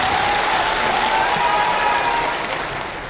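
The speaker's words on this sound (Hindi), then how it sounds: "दोनों हाथ उठा लीजिए सब लोग और एक बार ताली बजा दीजिए।" Many hands clap together at a Gurjar community rally in Meerut, a steady dense wash of applause with a faint whistle-like tone running through it, fading slightly toward the end.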